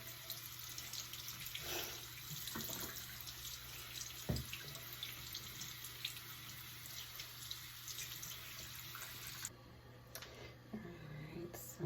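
Water runs steadily from a sink tap while waiting for it to warm, a constant hissing rush close by that shifts slightly partway through as the flow changes.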